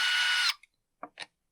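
A power drill zips briefly as screws are backed out of the handle of an Echo PB-7910T backpack blower, followed by a few short clicks and taps after it stops.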